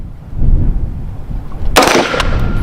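A single sharp rifle shot cracks out near the end, loud and close, after a stretch of low wind and outdoor rumble.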